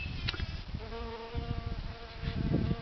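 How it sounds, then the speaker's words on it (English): Bees buzz close by in a steady, droning hum, with individual insects rising and falling in pitch as they fly past. "Are you listening to all these lovely bees?"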